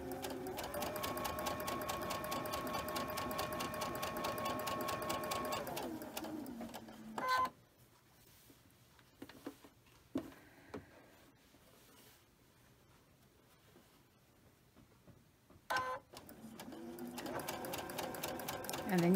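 A sewing machine stitches quilt blocks in a fast, even mechanical chatter that stops midway, leaving near-quiet handling clicks and soft rustles, then starts running again at the end.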